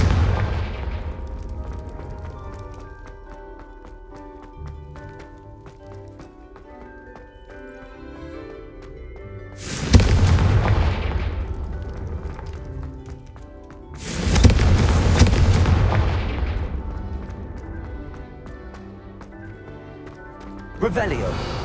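Confringo fire spells blast in Hogwarts Legacy, two loud booming explosions a few seconds apart set against game music and ambience, each ending in a rumbling tail.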